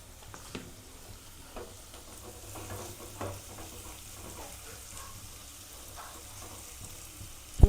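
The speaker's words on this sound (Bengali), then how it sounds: "একটু ক্যাপসিকামটা দিয়ে নাড়ব।" Capsicum stirred and frying in a pan for an aloo paratha filling, giving a steady soft sizzle with scattered clinks and scrapes of stirring, fairly quiet and close, ending in a sharper knock.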